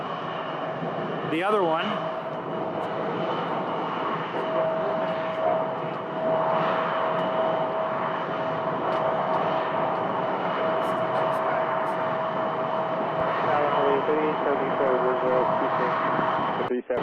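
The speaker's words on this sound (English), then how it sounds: "the CRJ in the front is arriving from Bakersfield, and they're both SkyWest" SkyWest CRJ regional jet arriving at Phoenix Sky Harbor Airport, a steady distant jet-engine whine and rumble lasting throughout, with a person talking over it.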